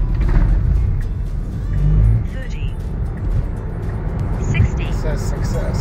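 A Tesla Model 3 accelerates hard on a quarter-mile run, heard from inside as a steady rising electric whir with road and wind rumble, under people talking.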